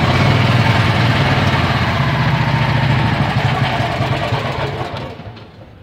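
A Landmaster tiller engine runs on choke, unable to idle, chugging with a loud, rough, knocking putter close by before it fades and dies away over the last couple of seconds.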